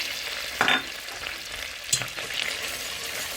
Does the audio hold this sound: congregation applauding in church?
no